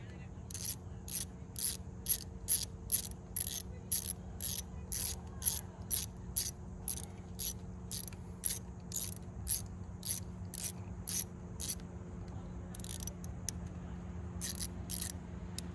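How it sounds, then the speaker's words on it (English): A 10mm ratchet tightening a long screw on the engine of a 2014 Chevrolet Equinox, heard as a long, steady run of close, sharp clicks with brief pauses between spins and no talk. "Got my 10mm. I just spin this to tighten it."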